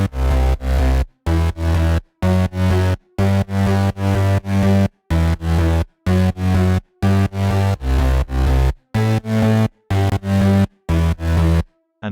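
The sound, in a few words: crispy synth basses with sub bass in FL Studio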